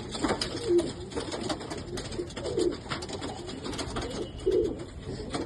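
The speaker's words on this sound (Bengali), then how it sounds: "এইটা আমার বাড়ির মেন বিটার পায়রা" A male homing pigeon gives soft, low coos about every two seconds, three times in all, over a steady background hum and faint mechanical ticking.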